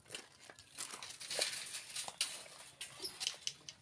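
Small dogs moving about indoors, a close, busy mix of scrabbling paws, rustling and light patter in irregular bursts, with no talk.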